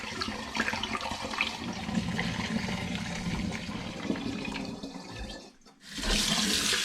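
Liquid poured from a pan down into a sink while making winter liqueurs, a close continuous splashing gush that fades briefly, then surges back loudly, with no talking.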